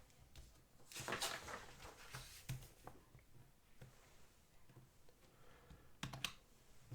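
Soft keystrokes on a computer keyboard as a number is typed in, a sparse scatter of quiet clicks spread over a few seconds, close but faint, with no talking.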